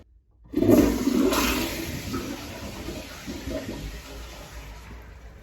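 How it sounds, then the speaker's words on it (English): A toilet in a large building's green room bathroom with a sewer stoppage flushes loudly and suddenly after brief silence, a rushing surge of water that settles into a gurgling, draining wash as it fades. "They said that's gurgling when you flush that toilet, so let's try it"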